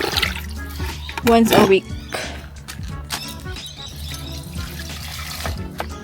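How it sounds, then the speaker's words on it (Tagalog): Water mixed with MSG is poured over potted flowering plants, a brief loud splash and trickle standing out early, with a person talking close by throughout. "So, diligan natin sila."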